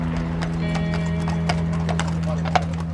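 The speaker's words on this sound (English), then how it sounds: "the family transfer Mikey to a horse-drawn carriage to begin the final walk to the cemetery" Horse hooves clip-clop steadily as a horse-drawn carriage moves along a road closed for a funeral procession to a cemetery. The hoofbeats are fairly close, under a constant low hum.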